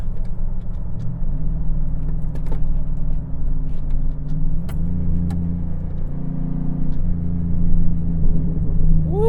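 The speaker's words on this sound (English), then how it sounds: "That exhaust sounds really good." Chevrolet TrailBlazer SS, a heavy 400 hp SUV, driving with a deep, loud exhaust rumble that rises and falls as the engine revs through gear changes, close and continuous with no talking.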